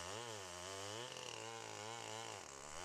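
STIHL 090 chainsaw cutting wood, its engine whining loud and close with rising and falling pitch as the chain bites into the timber, dipping briefly twice.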